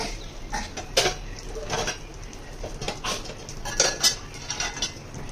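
Iron tawa griddle pan set down in a home kitchen before cooking chapati, giving a few scattered metallic clinks and knocks at moderate level with no talk.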